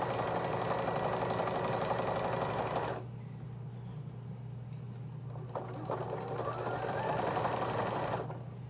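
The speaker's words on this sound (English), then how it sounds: "when I have to sew that mitered edge of the binding" A sewing machine stitches the mitered binding edge of a quilt, its motor whirring in a steady, close run, pausing briefly with faint handling noises before whirring again.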